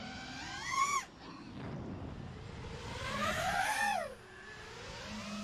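Electric motors on a GEPRC Mark5 freestyle quad drone whine in rising and falling pitch sweeps, two strong throttle surges over steady motor hum.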